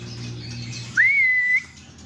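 A caged songbird from Pangandaran gives one clear, close rising whistle that holds steady for about half a second, after a softer low background hum.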